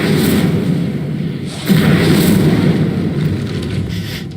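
A fire spell cast in the Hogwarts Legacy video game: a loud, rumbling whoosh-boom bursts in partway through and holds steady over a low, constant background roar.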